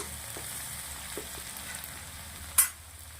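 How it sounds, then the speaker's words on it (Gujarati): Garlic and crushed ginger sautéing in a pan give off a steady, close sizzle, with one sharp utensil clatter near the end. "લસણને સરસ સાંતળી લેવાનું છે."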